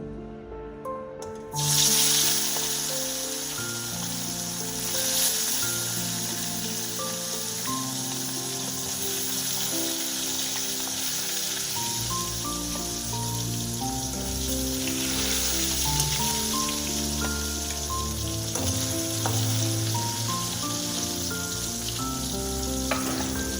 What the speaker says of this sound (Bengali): তেলটা কিন্তু খুব ভালো করে গরম হয়ে গেছে, ধোঁয়া উঠছে, দেখতেই পাচ্ছ। এবারে আমি গ্যাসটা কমিয়ে দিয়ে আস্তে আস্তে মাছগুলো দেব।